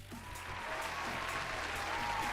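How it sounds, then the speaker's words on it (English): Applause sound effect from the game Sock Dating Simulator, a steady wash of clapping that swells slightly and holds at an even level, with a faint tonal hum running beneath it. "You deserve this applause"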